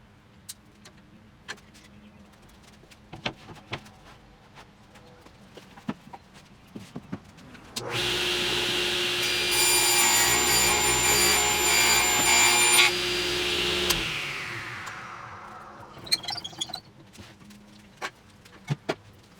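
A power tool cuts through an MDF board to make a guitar body template, a loud steady whine lasting about six seconds with no talking, set between scattered handling knocks and clatter.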